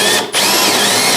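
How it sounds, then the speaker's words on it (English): A power drill bores a 3mm pilot hole into a wooden stair tread, a loud close high-pitched whine with a brief dip as the trigger eases, then full speed again. "Now I'm going to make a 3mm pilot hole just on that line."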